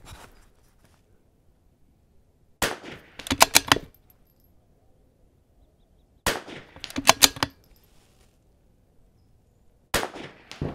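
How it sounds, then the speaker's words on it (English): Rimfire shots from a Vudoo V-22 rifle at an outdoor NRL22 range: three bursts of sharp cracks, each a lone report followed by a quick cluster of about four shots, with quiet gaps between. "So I'm gonna tell the scorer that I'm gonna shoot the 2-inch, that's worth 7"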